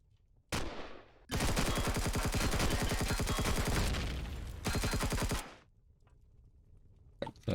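Enemy gunfire in the video game Empyrion Galactic Survival: a short burst, then a long rapid automatic volley, another burst, and a brief final shot, each loud and close, with quiet gaps between.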